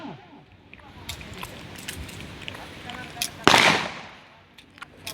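Gunshots at a police shooting practice for highway patrol officers in Aceh, with scattered sharp cracks at a distance and one louder, closer shot that rings out, while voices give commands in the background.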